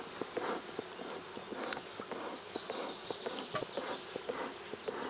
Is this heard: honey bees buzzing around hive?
yes